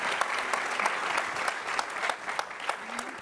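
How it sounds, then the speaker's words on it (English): Steady applause from a panel discussion audience, dense clapping throughout with a few sharper claps standing out, fairly close. "A big applause to my great panelists, please."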